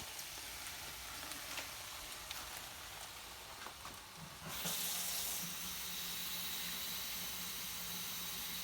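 Water runs from a kitchen sink tap into a container, a steady rushing hiss that turns louder and brighter partway through as the flow strengthens, with no talking.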